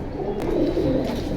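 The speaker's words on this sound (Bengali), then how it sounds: "মাশাআল্লাহ প্রিয় দর্শক দেখেন খুব সুন্দর এক পেয়ার চিলা।" A pair of Chila pigeons coos steadily and close up, a continuous low burbling that swells slightly midway through.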